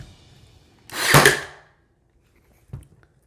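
A Ryobi brad nailer fires a brad nail at its deepest depth setting, producing one sharp, loud pneumatic-style thwack with a short hiss, followed by a faint mechanical click a moment later.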